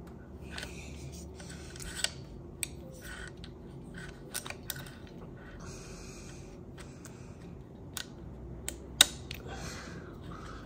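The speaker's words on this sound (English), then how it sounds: "Using the tool to cut the brake line" A cutting tool snips through a hydraulic brake line while a Shimano Dura-Ace front disc brake is fitted to a Cervelo P-series bike: a few sharp, quiet clicks and crunches over low background hiss, with no talking.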